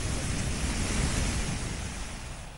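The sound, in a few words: flood river waves surging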